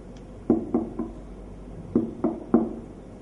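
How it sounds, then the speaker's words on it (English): Knocking on a door during a children's storytelling performance, two clear groups of three sharp knocks separated by a short pause, loud and close. "so she knocked on the door"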